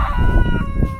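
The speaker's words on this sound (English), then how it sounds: "And the roosters are crowing." Roosters crowing loudly and close by on a farm with fruit trees and a koi pond, one long crow filling the moment alone.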